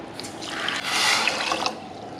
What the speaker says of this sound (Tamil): இதுக்கு நான் 2 கப் தண்ணி போட்டுக்கிறேன்.